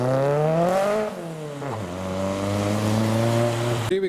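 A Nissan S14 pulls away from a car show, its engine revving up through the gears with rising and falling pitch, loud and fairly close, before fading as it leaves.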